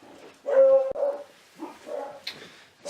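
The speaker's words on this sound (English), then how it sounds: "My dog is barking." A pet dog barks in the background indoors, a few short sharp barks and yips spaced irregularly over a few seconds, fairly close and moderately loud, with no talking over them.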